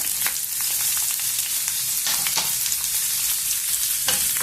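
Green chilies and onion frying in hot oil, a loud, dense, steady sizzle with occasional sharp crackles and light stirring strokes.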